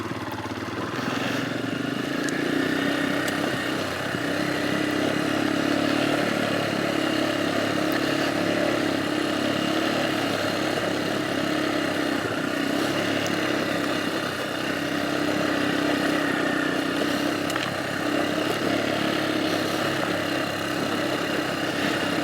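A Royal Enfield Himalayan motorcycle fitted with a 14-tooth front sprocket rides along, its engine drone and wind noise steady and fairly loud throughout with no talking.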